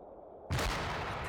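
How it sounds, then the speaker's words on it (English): Mortar shells burst abruptly in the WWII strategy game Combat Mission: Afrika Korps, assault on Sollum: a sudden loud, heavy blast hits after a quiet stretch and leaves a sustained rumbling roar, with no voices over it. "We've got explosions here. What is this? Mortars?"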